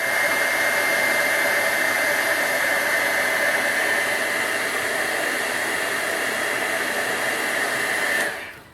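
A heat embossing tool blows steadily close by as it melts embossing powder on a vellum butterfly card, a constant loud hair-dryer-like whoosh that cuts off abruptly near the end.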